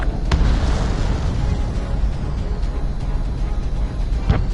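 Missile explosions in the flight combat game Ace Combat 7 merge into a dense, continuous rumbling roar. The blasts are loud and close, with a couple of sharper bursts near the start and the end.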